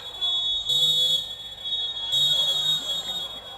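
A period-ending buzzer sounds at a men's box lacrosse sixes match between Great Britain and Germany, two long steady electronic tones separated by a short gap, with commentary talk running underneath.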